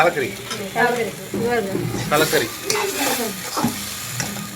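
Ground masala paste sautés in a pot for goat head curry, a loud close sizzle and bubbling with the scrape of a ladle stirring, while a voice talks faintly over it.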